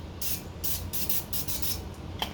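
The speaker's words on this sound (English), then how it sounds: "I'm gonna go ahead and spray them a little bit more." Several quick spritzes from a spray bottle onto fries, short hissing bursts in an uneven series, close up with no talking.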